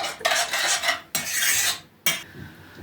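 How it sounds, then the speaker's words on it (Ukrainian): A spoon stirs a yeast mixture in a bowl for twisted bun dough, making close, brisk scraping and swishing strokes in three bursts separated by short pauses. "це все нам потрібно вимішати, щоб дріжджі нам трішки розійшлися трошки пошумить"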